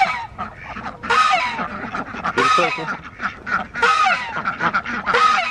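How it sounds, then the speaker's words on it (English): Ducks and chickens squabble noisily over a baby snake, with loud overlapping honking quacks and squawks in repeated bursts close by, and a voice speaks briefly among them. "The duck went for it first."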